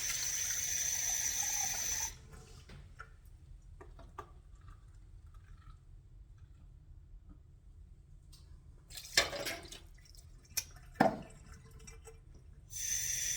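Salted water made with kelp and iodized salt is poured into a measuring cup up to the two-cup mark: a steady close trickle and splash with short pauses, a few brief louder gushes, and a strong stream at both ends.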